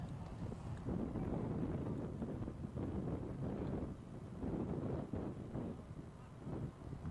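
Wind gusting across the microphone at a high school baseball game, New Trier against Glenbrook South, blowing straight in from center field; a steady, rumbling buffet with no talk.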